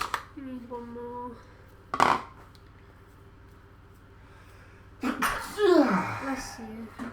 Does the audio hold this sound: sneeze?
yes